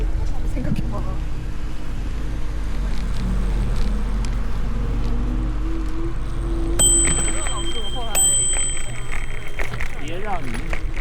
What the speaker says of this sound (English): You're ringing my bell often.